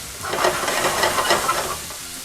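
Leftover marinade poured into a chicken and mushroom keto stir fry in a hot pan, a close, steady sizzle with stirring scrapes that swells and then eases off over a couple of seconds.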